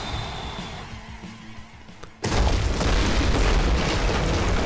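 A sudden loud explosion erupts in Far Cry 3 after a quieter stretch, and its roaring blast holds at full strength to the end.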